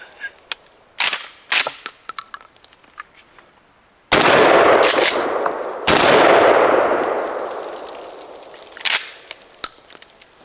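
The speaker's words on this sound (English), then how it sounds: "we're gonna throw some more birdshot downrange" A Mossberg Shockwave fires birdshot outdoors: two loud blasts roughly two seconds apart, each ringing out and decaying, with scattered clicks and handling sounds before and after.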